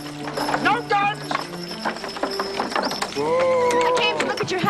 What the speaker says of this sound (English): What are the horses, Ivar?